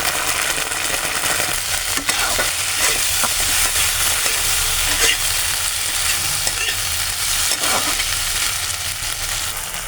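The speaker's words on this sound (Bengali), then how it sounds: "আমি এখন তেলে একটু পেঁয়াজ দিয়ে দিয়েছি। পেঁয়াজ ভাজা হয়ে গেছে, আমি একটু কাঁচা লঙ্কা কুচি আর একটু টমেটো কুচি দিয়েছি" Onion, chopped green chili, tomato and ginger-garlic paste frying in hot oil, a loud continuous close sizzle with a few spoon stirs and scrapes mixed through it, no voices.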